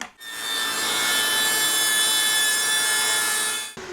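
A Festool CSC SYS 50 table saw cuts through a piece of wood, a single loud steady whining rip lasting a few seconds between short quiet gaps, close and alone.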